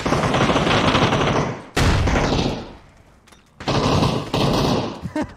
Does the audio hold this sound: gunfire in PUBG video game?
yes